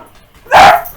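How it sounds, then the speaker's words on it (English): A single sharp, loud dog bark near the microphone, startled by someone arriving at the door, bursting out of a quiet room for a brief moment. "Somebody came to the door and startled my dogs."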